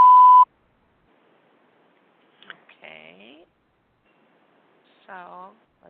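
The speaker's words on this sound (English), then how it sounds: "Please leave a message after the beep" A single short voicemail beep sounds at the start, clear and close, followed by quiet and then brief bits of speech.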